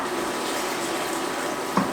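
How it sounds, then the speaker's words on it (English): Water poured steadily into a pot of rice in a home kitchen, a continuous close splashing gush with a small clunk near the end. "And then add the water."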